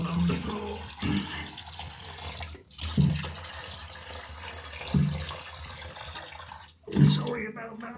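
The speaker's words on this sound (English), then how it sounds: "And there's half the water gone on the floor." Water spills from a removed toilet pan onto a bathroom floor during a toilet replacement, with uneven splashing and trickling that rises and falls in bursts and some background shuffling.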